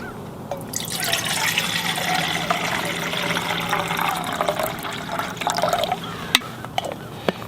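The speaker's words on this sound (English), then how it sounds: "get some cold water into the stash" Cold water pours into a Jetboil Stash stove pot in a steady, close trickling stream, then tapers into a few sharp drips and clinks at the end.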